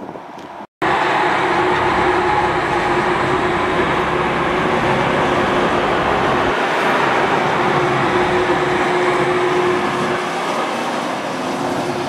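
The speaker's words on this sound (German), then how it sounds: "Und hier kommt eine Rail Adventure Fuhre mit einer 111er vorne dran." A Rail Adventure train hauled by a class 111 electric locomotive rolls past at close range, a loud, steady roar of wheels and rail noise lasting throughout after a brief silent start.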